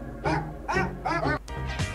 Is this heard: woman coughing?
no